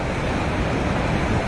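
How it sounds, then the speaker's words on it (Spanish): Strong water current pours over the Benito Juárez dam at Jalapa del Marqués, Oaxaca, during a controlled release, a dense, constant roar of rushing water with no pauses. "Ya se logra apreciar donde el agua ya empieza a pasar sobre el puente."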